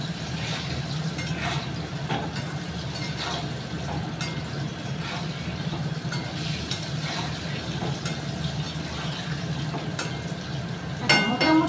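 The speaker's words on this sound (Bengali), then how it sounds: "একটু লাল লাল করে ভালো করে ভেজে নিই।" Food frying in a pan with salt until reddish, giving a steady, close sizzle that holds evenly throughout, with a few faint stirring scrapes and a brief louder clatter at the end.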